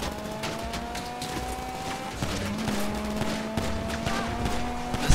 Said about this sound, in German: Wer schießt denn da schon wieder auf uns? Ich schieß auf die